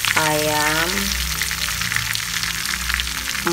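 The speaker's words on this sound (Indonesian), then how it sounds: "lagi goreng ayam" Chicken pieces fry in hot oil in a home kitchen, a steady, close, loud sizzle and crackle running throughout, with brief voices at the start and end.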